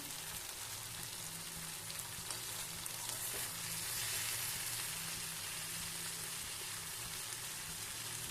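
Cauliflower roast cooks in oil with a continuous, even sizzle and faint crackle, fairly quiet and unbroken, with no talking.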